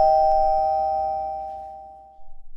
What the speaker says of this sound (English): I'm going to get the doorbell, so I'll be right back.